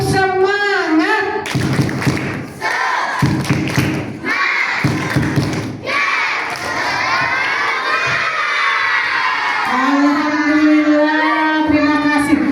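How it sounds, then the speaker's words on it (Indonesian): Schoolchildren at a Kutai Timur outreach event perform a group clapping chant, loud bursts of rhythmic claps and shouted cheers from a close crowd of young voices, ending in a sustained unison shout. "Anak-anak Bu Farida mau dengar tepuk semangatnya dulu walaupun sudah menjelang sore."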